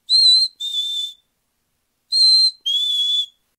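Black-capped chickadee (Poecile atricapillus) calling: two pairs of clear, pure whistled notes, each pair a higher note followed by a slightly lower one, separated by a short silence, close and alone.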